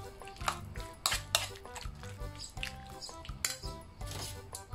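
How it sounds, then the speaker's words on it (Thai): Marinated pork is being mixed by hand in a bowl before deep frying, with faint, irregular clinks and scrapes of utensils against dishes in a quiet kitchen. "เคล้าหมูสักหน่อย"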